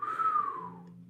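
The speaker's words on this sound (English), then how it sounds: "I whistled!" A single short whistled note, slightly wavering and gently falling in pitch, fades out after about a second.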